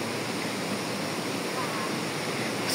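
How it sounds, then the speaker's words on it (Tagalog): Tinago Falls pours in a steady, loud roar of rushing water, broadband and continuous throughout with no break, close by and filling the whole scene. "Malakas nalagaslas ng tubig."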